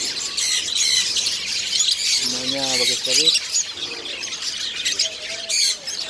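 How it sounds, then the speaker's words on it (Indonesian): Birds squawking and chirping in a busy traditional bird market, shrill calls overlapping close by while a person speaks briefly over them. "kita berada di pasar tradisional, pasar burung"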